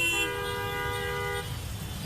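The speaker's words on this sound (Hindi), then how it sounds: "लोग इतना गाड़ियों के हॉर्न बजा रहे हैं" A car horn blares in one sustained tonal honk in flooded traffic after heavy rain in Damoh, cutting off after about a second over a rumbling background of engines and water.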